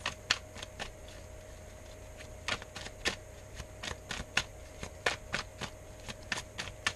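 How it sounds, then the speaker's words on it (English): Tarot cards being shuffled by hand, giving a run of soft, irregular papery clicks and riffles with short pauses, close and fairly quiet against a low steady hum. "when I stopped shuffling"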